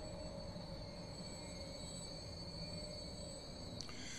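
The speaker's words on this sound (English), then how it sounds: "our train has just pulled in on platform one" A London Underground Metropolitan Line train stands at a platform in Transport Fever 2, giving off a steady low hum with sustained metallic squealing tones at a quiet level.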